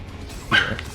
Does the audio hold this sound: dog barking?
yes